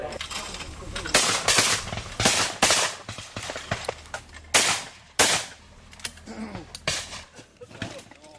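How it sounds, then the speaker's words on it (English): Repeated shotgun blasts at an outdoor clay pigeon shoot, irregular sharp reports, some close and loud, others fainter, spaced a second or so apart, with voices murmuring in the background. "So we've got 70 odd people shooting clays"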